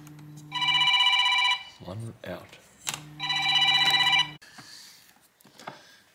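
An old work phone rings in two long electronic trilling bursts with a gap between them, loud and close, while a person speaks briefly between and after the rings.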